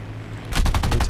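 Twin nose-mounted machine guns of a CR.32 biplane in War Thunder open up abruptly after a quiet engine drone, a rapid, loud burst of evenly spaced shots continuing to the end.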